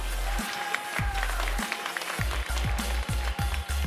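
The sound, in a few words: audience applause welcoming the winning team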